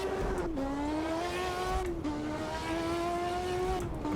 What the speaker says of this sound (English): let's immediately hear what a 4-cylinder 1300 horsepower car sounds like